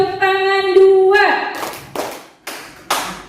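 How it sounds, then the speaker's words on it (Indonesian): Schoolchildren in a classroom clap on command, producing a few sharp, separate claps after a voice speaks briefly. The claps ring out clearly and each fades quickly. "Tepuk tangan 2,"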